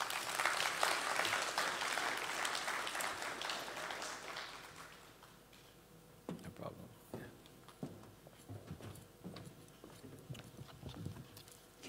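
Applause from an audience at the launch of a public information campaign in Barbados, loud and dense for about four seconds before thinning to scattered claps and shuffling, with faint voices underneath.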